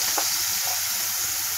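Yogurt masala sizzles as it goes into a hot hing and cumin tempering with a bay leaf, a loud, close, continuous hiss and crackle with no talking.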